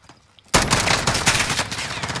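Dense video game shootout gunfire erupts suddenly after a quiet moment, sustained rapid bursts of shots close and loud for the rest of the stretch.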